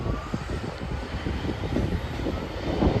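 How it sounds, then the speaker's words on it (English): Avanti West Coast Class 390 electric train pulling into Carlisle station, a steady broadband rumble and hum that swells slightly as it draws near, with no voices. "Driving in as a Avanti West Coast service, 390 123."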